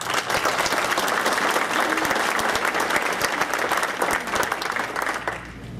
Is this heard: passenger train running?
no